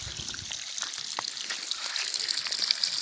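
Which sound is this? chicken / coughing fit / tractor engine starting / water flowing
water flowing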